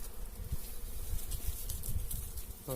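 Small honey bees swarming as honey is harvested outdoors in North Karnataka, a steady close buzzing drone with a few soft thumps, fairly quiet and continuous throughout.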